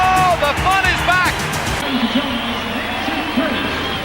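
Capacity crowd at the Summit arena for a Houston Rockets home basketball game, a steady loud murmur and cheer filling the space, with an announcer's voice talking over it at the start.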